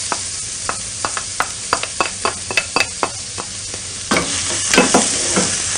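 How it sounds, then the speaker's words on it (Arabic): Onions fry in hot oil left over from an earlier batch, giving a constant sizzle that grows louder near the end, with repeated sharp clicks and scrapes from stirring and no talking. "وفي نفس الزيت هذا مثل ما خبرتكم راح قلي البصل"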